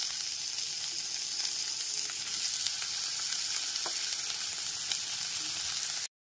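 Chopped tomato frying with onion and garlic in a pan, a constant bright hiss of sizzling oil with faint crackles throughout, cutting off abruptly at the end.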